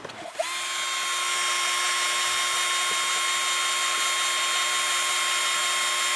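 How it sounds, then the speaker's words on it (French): A power drill bores a hole aboard a sailboat. After a brief rustle it spins up into a steady, close, high-pitched whine that holds evenly to the end. "Là, je vais la percer genre là."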